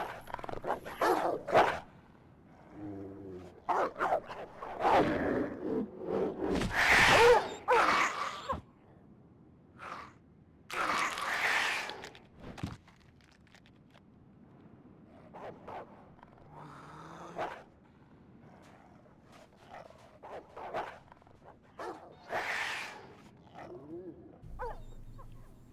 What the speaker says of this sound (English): I was hearing some dogs barking.